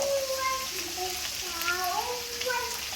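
Beans and onions being stirred as they fry in a pan while cooking a Thai dish: a steady close sizzle with high, whistly tonal chirps drifting over it and faint voices in the background.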